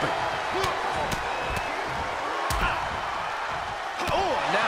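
Crowd noise from a WWE 2K22 wrestling match fills the arena, with sharp repeated slams and impact smacks from knee strikes cutting through, under loud commentary and scattered cheers.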